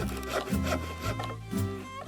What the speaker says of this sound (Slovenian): So žagali, brusili, dolgli, rezali, zvijali.